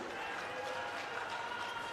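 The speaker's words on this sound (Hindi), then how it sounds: "जोरदार तालियों से श्रीमान अरविंद केजरीवाल साहब का स्वागत है जी।" A rally crowd at a Rewa gathering claps to welcome Arvind Kejriwal, a steady wash of applause heard at a distance with a voice over the PA running on top of it.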